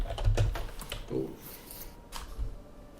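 Someone types on a computer keyboard, irregular soft clicks and taps close by, with brief pauses between bursts and no one talking.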